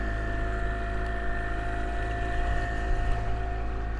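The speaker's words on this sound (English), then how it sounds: "we're just leaving the dock here. Just got the little motor and big motor started up." A 20-foot Hewescraft Sportsman boat pulling away from a dock with its Yamaha 90 and 9.9 outboard motors running, giving a steady, loud, low engine drone with no talking.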